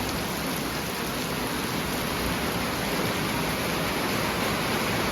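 Steady, dense rain hisses evenly without pause, close and fairly loud.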